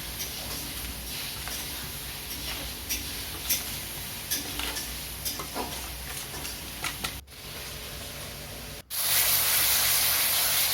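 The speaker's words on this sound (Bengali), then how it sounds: "আদা রসুন পেঁয়াজ কাঁচা লঙ্কা বাটা কষানোর পর দিয়ে দিলাম গুঁড়ো মশলা যেটা গুলে রেখেছিলাম" Spice-water mixture poured onto fried ginger, garlic, onion and green chilli paste, giving a loud, sustained hissing sizzle with scattered crackles, close up, then cutting out and returning as a stronger, even hiss; no speech.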